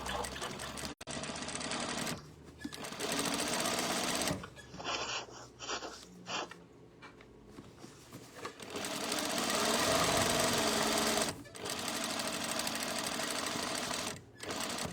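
Sewing machine back stitching over a seam on a fabric tote bag, running in steady bursts with brief pauses as the bag is turned, fairly close and alone without talk.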